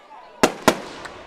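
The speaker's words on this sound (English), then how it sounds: "there's some fireworks going off here" Fireworks bursting at a high school football game, two sharp loud bangs in quick succession followed by a fainter third pop, with a voice present in the background.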